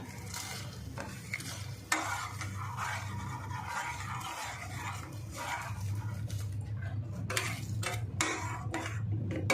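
Barnyard millet halwa being stirred in a pan, with continuous scraping and stirring over a low sizzle, occasional utensil knocks and a steady hum underneath.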